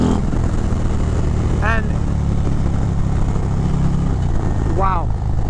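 A stage 4 2023 Harley-Davidson Road Glide ST 135 weighing 842 pounds roars steadily and loudly while being ridden, with constant engine and wind rumble and a rider talking over it.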